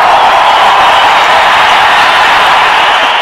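A large audience at a Tamil film audio launch for Idly Kadai claps and cheers in a loud, dense, unbroken roar that fills the whole stretch with no gaps.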